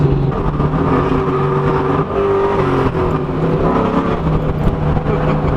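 A 2003 Ford Mustang GT with the 2-valve V8 accelerates hard while racing a Ford GT, its loud engine roar climbing and shifting in pitch close by from start to finish, with no talking.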